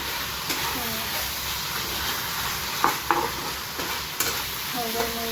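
Curry frying in a pan gives off a steady, close sizzle, with occasional scraping clicks from stirring.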